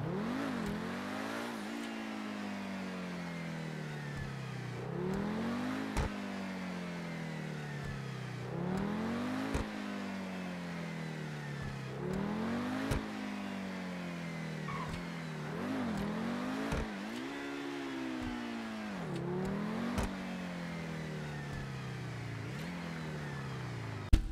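The Pegassi Torero XO supercar in GTA V revs hard through repeated rising gear runs, each climb ending in a sharp shift, near and steady over about twenty seconds.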